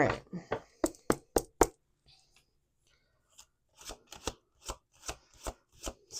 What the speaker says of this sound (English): Let's do a little shuffle here.